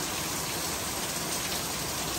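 Heavy rain pours steadily in Guarujá, a dense continuous hiss of drops falling on surfaces, loud and close with no voices over it.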